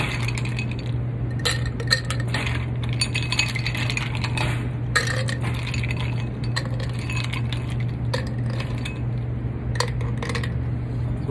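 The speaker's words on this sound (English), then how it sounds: "I'm gonna add ice into the glass." Ice cubes clinking into a glass while a michelada is made, a series of sharp scattered clinks and rattles over a steady low background hum, close and fairly quiet.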